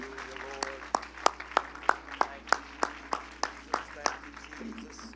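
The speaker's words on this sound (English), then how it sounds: "a hand clap of praise and thanksgiving." A church congregation claps hands in praise, about a dozen sharp, fairly even claps ringing out one after another in a large room, alone without talk.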